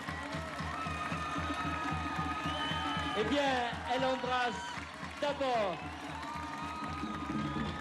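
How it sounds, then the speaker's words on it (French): Crowd applause and cheering for Miss Tahiti 2008 at the pageant, a dense continuous roar of clapping and shouts under someone speaking French. "sous vos applaudissements, mesdames et messieurs"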